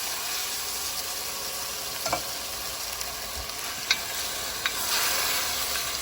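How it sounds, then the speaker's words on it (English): Beef broth and diced tomatoes poured over seared beef in a hot pan, giving a steady broadband sizzle with a few faint clinks and scrapes, alone and without talk. "I'm gonna add just a little bit of this beef broth, and a pan of diced tomatoes."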